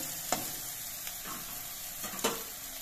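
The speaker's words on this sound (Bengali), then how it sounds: "বীজগুলো কিছুক্ষণ ভেজে নেওয়ার পর দেখুন বেঁধে বোঝা যাচ্ছে যে বীজগুলো ভাজা হয়ে গেছে।" Malabar spinach seeds fry dry in a pan on a gas stove with a quiet, steady sizzle. A few sharp scrapes of the spatula sound as they are stirred.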